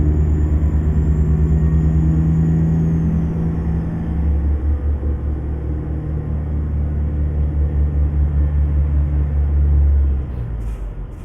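Heavy truck in American Truck Simulator, a modded Ford LTL 9000, driving on a snowy logging route with a deep, steady engine drone and rumbling road noise throughout, easing slightly near the end.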